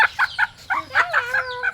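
A single chicken clucks nearby in short, choppy bursts, ending in a drawn-out squawk; fairly quiet with little else around it.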